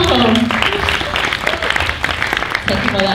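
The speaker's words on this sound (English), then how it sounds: "thank you for that applause" Applause rises from the audience at a popping dance conference panel, a dense, steady wash of clapping close by, with voices mixed in throughout.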